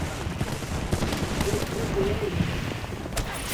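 Dense, continuous gunfire in the battle-royale shooter Apex Legends, a steady wash of overlapping rapid shots with no clear pauses, loud and close.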